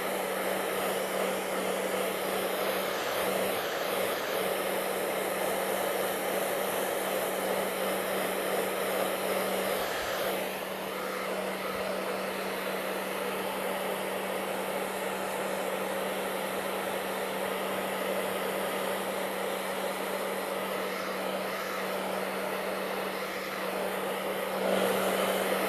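A hair dryer drying paint on a canvas blows in a steady, continuous whir with a constant hum. It stays loud and even for the whole stretch with no talking.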